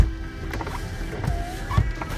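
A salvage auction car's electric window motor whirs in short mechanical runs, close by, with small clicks and thumps as the glass moves.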